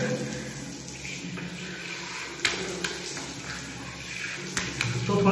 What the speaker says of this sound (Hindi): देखो मुँह धो लिया मैंने